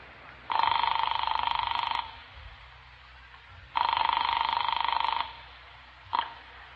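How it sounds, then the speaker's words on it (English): A telephone rings on the line after a call is dialed, two long trilling rings with a pause between them and the start of a third cut short, clear and fairly near. "I dialed Cal Hendricks' number in New York."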